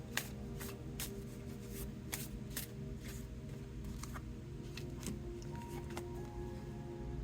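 Chakra oracle cards are shuffled in a steady stream of soft, papery flicks and slaps, close and fairly quiet over a low background hum.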